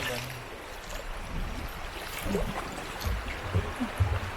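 Strong river waves and rushing water surge around a bamboo raft, with steady broadband churning and occasional low thumps of water hitting the raft, loud and close throughout.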